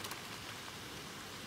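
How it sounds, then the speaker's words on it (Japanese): Steady rain falls outdoors on a June day, a soft continuous hiss of drops with no gaps or other sounds, faint and even throughout. "6月4日雨です。"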